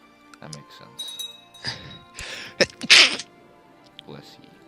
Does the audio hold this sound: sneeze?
yes